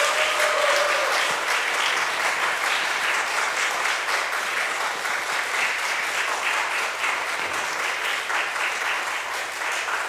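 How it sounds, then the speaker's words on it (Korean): Steady, fairly loud applause fills a Sunday church service as the congregation claps together to encourage a couple, an even wash of hands lasting ten seconds without talking. "다 같이 박수하겠습니다."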